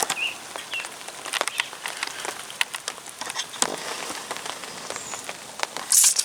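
Rain falls on a misty day beside a carp lake, a steady patter of drops tapping nearby surfaces with scattered sharper ticks.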